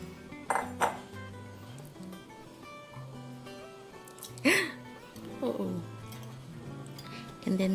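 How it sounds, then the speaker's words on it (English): Eggs are beaten in a bowl with light clinks and taps of utensil against the dish, a few scattered strikes under a person talking. "And then we just carefully beat the eggs."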